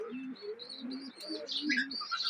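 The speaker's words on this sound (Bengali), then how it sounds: "এই যে কবুতরগুলো" Pigeons let out into the sunshine coo in low, soft repeated phrases, with light chirps and twitters over a steady background.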